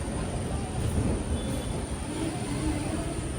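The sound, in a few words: Amrit Bharat Express train arriving at Kozhikode railway station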